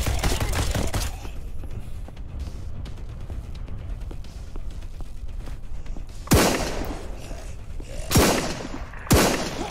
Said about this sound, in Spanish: Está disparando la francotiradora.